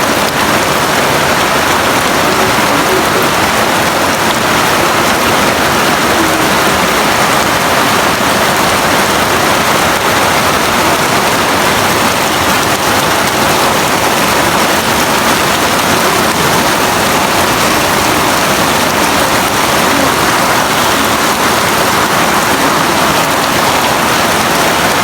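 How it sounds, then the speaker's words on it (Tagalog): Heavy rain pours down in a dense, constant roar during a storm, loud and unbroken for the whole stretch, with no voices. "Hindi ko alam kung anong oras hihinto yung ulan na to."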